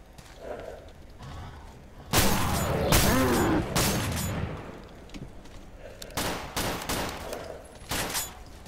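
Gunfire in the Stalker Call of Pripyat Misery mod: a burst of loud shots crackles in the middle, followed by several sharper separate shots, with quieter stretches around them.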